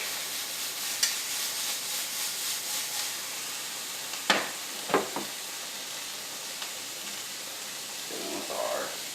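Garlic sizzling in a pan for beef stroganoff, a soft continuous sizzle with a few sharp scraping or stirring knocks and clinks over it.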